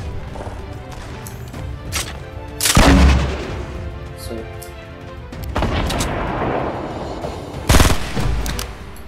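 Gunfire in a Fortnite Battle Royale match, with several loud sharp shots and booming bursts spread across the scene, strongest near the middle and end, over game sounds, with no talking.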